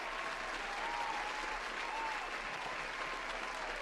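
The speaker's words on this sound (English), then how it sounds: "Can we give her a round of applause, please?" A studio audience applauds to welcome a Nigerian guest onto a talk show, a steady dense wash of many hands clapping at even volume for a few seconds, with a faint voice in the crowd.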